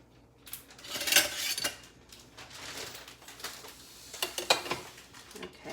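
Metal tongs clatter and scrape against pans and utensils during home cooking with rosemary, producing irregular bright clinks and rattles, close by, with a busier burst of clanking near the end.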